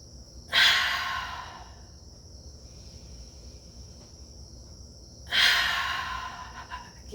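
Two long, deep exhaling breaths during yoga shoulder shrugs, each a loud, breathy whoosh trailing off, spaced several seconds apart with quiet between.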